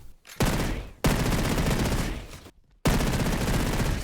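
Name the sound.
MP7 submachine gun firing in a video game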